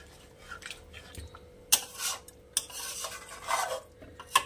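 Chicken korma with milk being stirred in a pan over a high flame, a spoon scraping and clinking in irregular bursts against the metal, close and moderately loud.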